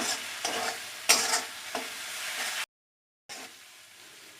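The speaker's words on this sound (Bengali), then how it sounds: "ভালো করে কষিয়ে নেব মশলাটাকে" Spice paste with turmeric being stir-fried over medium heat for a country chicken curry, a close sizzle punctuated by a few scraping stirs, cut by a brief silent gap before the frying resumes.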